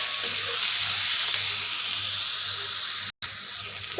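Chopped tomato and onion sautéing together in a pan for anda bhurji, a steady close hiss of frying with a brief dropout near the end, no voices.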